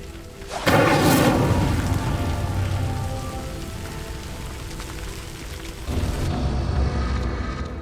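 A fire spell ignites a burning pyre in Hogwarts Legacy, a sudden loud whoosh of flame followed by a sustained roaring crackle that fades slightly, then swells again near the end.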